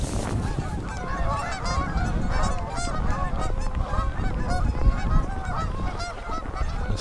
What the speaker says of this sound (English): Some of the geese departing the river.